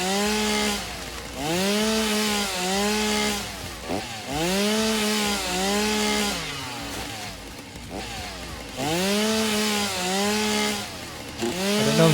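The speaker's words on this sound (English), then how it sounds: "We have our chainsaw." Chainsaw in the video game Satisfactory cutting down foliage, its engine revving up and down in repeated swelling cycles, loud and continuous with no talking.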